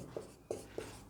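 Chalk or marker strokes on a classroom board, three short distinct scratches spaced about a third of a second apart, close and fairly quiet, with no talking.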